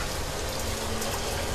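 Water dripping and trickling like rain inside an underground gem mine shaft in Sri Lanka, a dense, steady patter that fills the space without pause.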